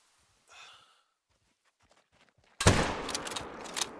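A single loud hunting-rifle gunshot in theHunter: Call of the Wild, sharp and close, arriving after a quiet stretch with a faint breath and ringing briefly into a decaying tail.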